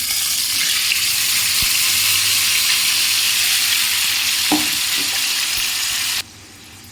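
Chicken pieces dropped into well-heated oil for a chicken fry, giving a loud, close, continuous sizzle with a few stirring knocks, and ending abruptly in near quiet.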